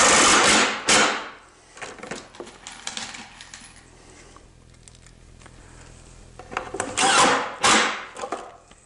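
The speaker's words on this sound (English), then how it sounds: "I can just slip this down inside the beam and drive screws into those pocket holes in the bottom of the glue blocks" A drill drives screws into pocket holes in glue blocks inside a wooden faux beam, with bursts of whirring and knocking at the start and again near the end, separated by quieter handling sounds.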